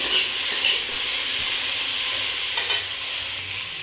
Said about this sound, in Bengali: এগুলোকে সব ভালোভাবে একটু ভেজে নেব